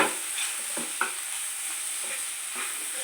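Chana dal and coconut fry is stirred in a pan, with soft spatula scrapes at irregular intervals over a faint, steady sizzle. No one speaks.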